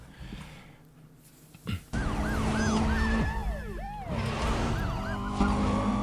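A police siren wails in a Need for Speed: Undercover chase, with repeated rising and falling sweeps. It sounds loud over a dense roar of car engines and music.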